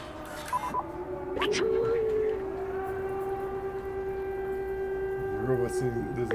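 A sustained electronic siren tone holds steady for several seconds in the video game Stray, rising briefly before settling into a long flat wail, with short electronic blips around it.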